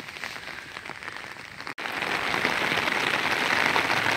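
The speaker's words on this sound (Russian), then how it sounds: "У нас ливень!" Heavy rain pours down in a park with blooming roses, a broad, close hiss of drops that briefly cuts out, then returns louder and denser as the downpour builds.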